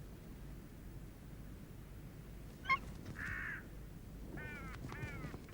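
Hooded crows caw in short bursts while mobbing an immature eagle, with a sharp call near the middle and a few harsher caws toward the end, all over a steady windy background hiss.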